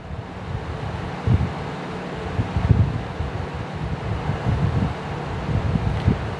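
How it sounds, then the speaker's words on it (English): An air conditioner runs at full blast in a closed room, giving a steady low whooshing hum with faint soft knocks. No one speaks. "I am in a closed room and the AC is on full blast"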